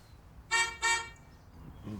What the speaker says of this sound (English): that's the car horn.